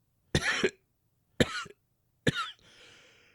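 A voice imitating a cough, three short harsh coughs spaced about a second apart, close and clear, the last trailing into a breathy exhale.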